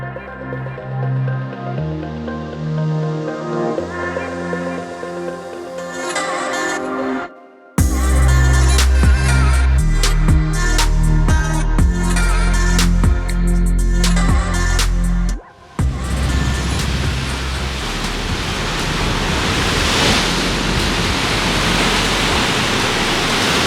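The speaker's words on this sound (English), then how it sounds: "known for the jagged coastlines and violently crashing waves" Waves crash against the jagged volcanic coastline of Boca National Park, Curaçao, heard as a loud, continuous roaring wash of surf alongside music, with no speech.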